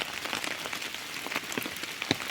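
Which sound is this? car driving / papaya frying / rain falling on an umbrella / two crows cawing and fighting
rain falling on an umbrella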